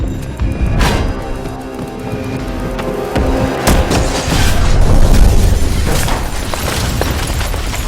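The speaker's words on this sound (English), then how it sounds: "A bomb is thrown during the distraction." A bomb explosion in a Captain America: The Winter Soldier action scene, a loud booming blast layered with dense music and effects that swells through the middle and stays heavy to the end.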